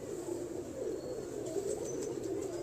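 Black Ghora pigeons cooing close by, a low continuous murmuring coo with faint chirps above, no voices.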